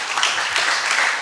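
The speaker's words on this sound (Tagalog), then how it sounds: "Isa mo ng palakpak sa ating Panginoon." A church congregation breaks into a round of applause during a sermon, a dense, steady wash of many hands clapping for just over a second.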